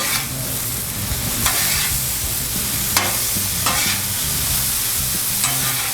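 Chicken and vegetables sizzle steadily on a hot Blackstone griddle, with periodic scraping and stirring strokes from a spatula turning the food, close and loud without talk.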